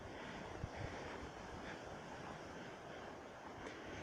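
Hurricane Irma wind blowing across a yard, a steady broadband roar with gusty swells and buffeting against the microphone, continuous and fairly loud throughout with no voices.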